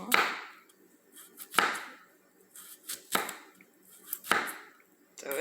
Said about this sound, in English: So let's just try some chopping